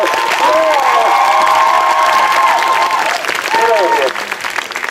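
At an engagement party, a crowd breaks into loud applause mixed with cheering and whoops, with voices calling out over the clapping before it thins out near the end.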